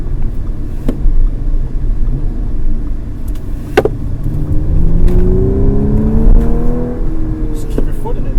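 A 2015 Audi S4 engine accelerating under full throttle, a steady near rumble with rising whirring engine tones as the revs climb, heard from inside the car while a person talks over it.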